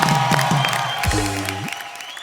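An audience claps and cheers briefly amid crowd noise, with a short voiced sound cutting through partway.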